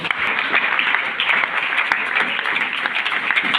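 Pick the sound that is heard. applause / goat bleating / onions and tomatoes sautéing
applause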